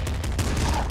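Enemy crocodiles fire a dense volley of gunshots in the video game Nuclear Throne, a short, loud burst of overlapping cracks over a low rumble.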